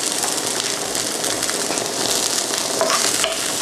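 Leftover vegetables tossed into a hot pan and stir-fried, a loud, steady broadband sizzle running throughout with a few scraping stir strokes near the end, close and without talk.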